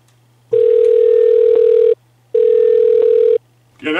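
Telephone dial tone while a call is being placed: two long, steady, loud tones separated by a short gap, followed by a brief burst of a different sound at the end.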